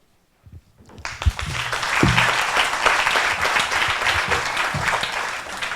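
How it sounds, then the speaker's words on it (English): After a brief quiet start, an audience breaks into sustained applause for a panel at a talk on ending hunger, dense clapping that swells and holds steady to the end. "Please join me in applauding our panel before you even hear them speak."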